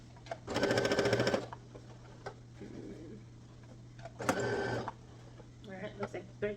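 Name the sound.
sewing machine stitching fabric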